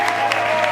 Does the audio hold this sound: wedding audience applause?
yes